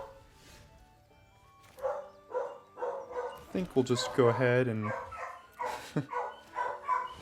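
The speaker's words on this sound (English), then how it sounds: "Dog is not having fun out there, whatever's going on." A dog barks repeatedly outside, a run of sharp barks and yips mixed with someone speaking over them.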